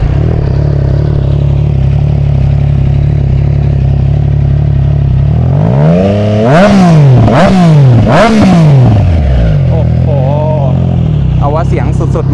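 A new 2021 Triumph Trident 660 three-cylinder motorcycle fitted with a Zard steel carbon full-system exhaust idles with a deep, steady rumble, then revs sharply several times in rising and falling blips before settling back to idle, loud and close.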